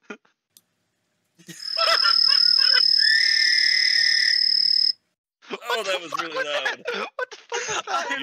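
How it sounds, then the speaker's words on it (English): Frog croaking from a video game sounds as a loud, sustained buzzing trill with insect-like chirps. It stops abruptly, then excited voices talk over further noise. "That was frog noises."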